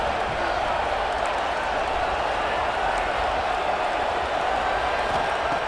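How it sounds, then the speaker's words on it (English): A stadium crowd in EA Sports College Football 26 gives off a continuous, even roar, a dense wash of noise that holds steady throughout. "Listen to the crowd energy here in the early going."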